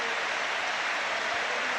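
A 38,000 crowd at a 1998/99 Arsenal versus Manchester United football match gives a standing ovation, a dense, steady roar of applause and cheering filling the whole short stretch.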